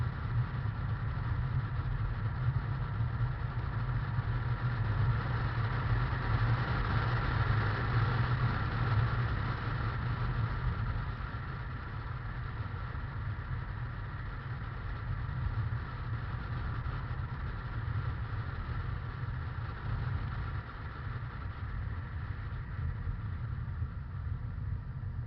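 A turbocharged car engine runs steadily and fairly close, with a low rumbling hum that stays even throughout and dips slightly in loudness partway through, with no voices.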